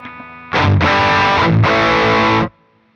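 A heavily overdriven electric guitar through an MXR Sugar Drive pedal blasts out loud sustained chords, with a brief break between two long crunchy strums before the sound cuts off into faint amp hiss.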